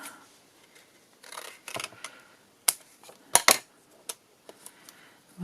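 Scissors snipping and trimming paper pieces for a handmade spineless journal, a series of sharp close clicks and cuts with short pauses between, no talking.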